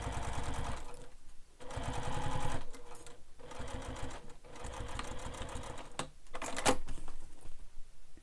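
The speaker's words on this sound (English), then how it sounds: "So top stitch all the way along." A sewing machine top stitches along the edge of a handmade fabric wallet, running in steady rapid bursts with brief pauses between passes, close and fairly loud with no talking.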